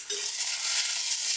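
Sliced onion sizzles in a hot pan for a Kerala prawn theeyal, a brief, even, close frying hiss with faint stirring and no voices.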